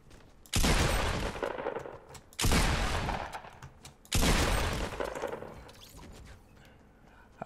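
Rifle gunfire in Fortnite Battle Royale arrives as three loud, dense bursts of rapid shots, each lasting over a second and separated by short gaps, close and harsh against a quieter game background.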